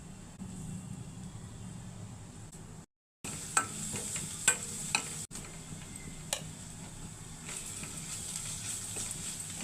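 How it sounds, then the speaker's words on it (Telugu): Onions and ginger garlic paste fry in hot tempering oil with a low steady sizzle, broken by a few sharp clicks and taps of a utensil, with a brief gap of silence early on. "పోపులో ఉల్లిపాయలు, అల్లం వెల్లుల్లి పేస్ట్ వేసాను."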